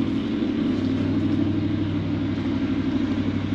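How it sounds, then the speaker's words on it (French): V8 engine gives off a steady, low rumbling drone nearby, continuous and unchanging throughout without any voices. "c'est pareil, il gueule un peu le V8 là."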